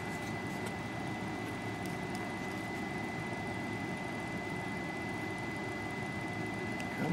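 Homemade pulse motor with a reed switch driver spinning, a steady close whirring hum with a constant high tone and faint ticking, unbroken and moderately quiet throughout, no voices.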